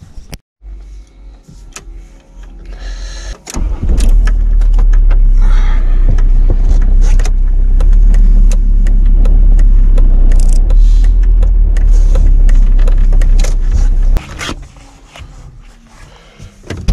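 A car is readied and driven off: clicks, rattles and handling noises come first, then a loud, steady engine and road rumble that stops abruptly near the end.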